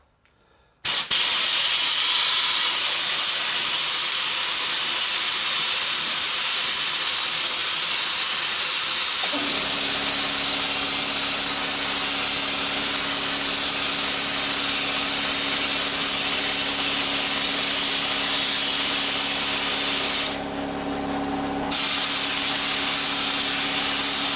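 A sandblasting gun sprays fine abrasive with compressed air at about 5 bar, a loud, steady roaring hiss that holds for over twenty seconds with a brief dip, a lower hum joining partway through.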